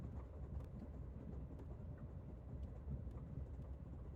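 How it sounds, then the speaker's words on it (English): A running train in the video game Master Detective Archives: Rain Code gives a steady, deep rumble with faint rhythmic clatter, continuous and even throughout, with no voices. "The sounds of a running train."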